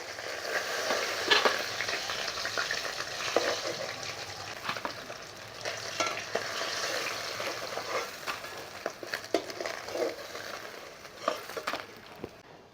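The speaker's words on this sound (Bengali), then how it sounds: "ওই তেলেই সামান্য একটু জিরে আর লঙ্কা ফোড়নে দিলাম" Cumin seeds and chillies tempering in hot oil left from frying croaker fish for a curry, giving a steady close sizzle with crackling pops and occasional stirring clicks, no voices.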